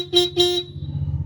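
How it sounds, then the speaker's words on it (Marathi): A home-made car horn rigged by a boy sounds two short, loud, clear tonal blasts in quick succession, then gives way to a low rumbling background with no talking. "बघा आता हॉर्न वाजवले."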